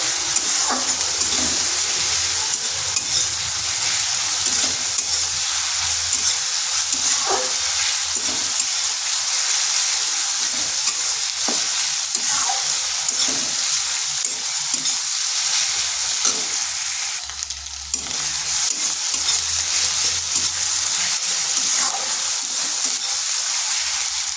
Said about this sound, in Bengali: এরপর এটাকে বেশ কিছুক্ষণ কষিয়ে নিচ্ছি যাতে তার কাঁচা গন্ধটা চলে যায়